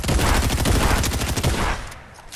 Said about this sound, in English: This combat shotgun is nasty.